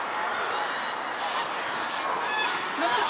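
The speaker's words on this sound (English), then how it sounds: "Lots of geese around there." Geese honk repeatedly amid a steady wash of outdoor noise on the outskirts of Oxford, the calls mid-distance and overlapping, with a louder burst near the end.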